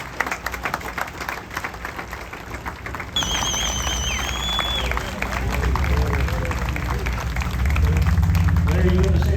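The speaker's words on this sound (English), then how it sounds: "Let's give them applause." Crowd at a Chattanooga veterans parade honoring Captain Larry Taylor claps steadily outdoors, mixed with chatter and background noise, while a high tonal sound rises partway through.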